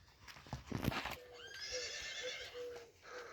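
A one-year-old horse foal gives a loud, drawn-out whinny after a few hoof clops and shuffles, the neigh wavering as it fades, heard close with no talking.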